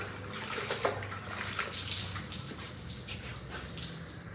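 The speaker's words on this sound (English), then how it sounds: "I'm gonna give the bumper a good cleaning" A car bumper is wiped down with a towel and soapy water, giving a steady wet swishing and trickling wash that runs continuously throughout.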